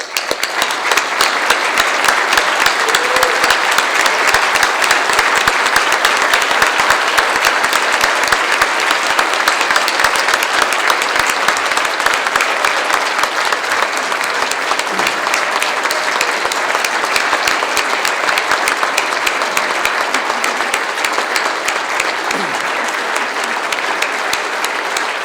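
A large banquet crowd applauds loudly and steadily, dense clapping that holds for about twenty-five seconds without letting up.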